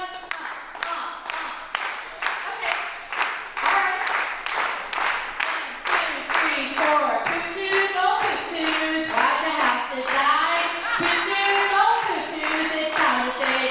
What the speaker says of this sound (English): So everybody just clap your hands just like you did to Legit Quit.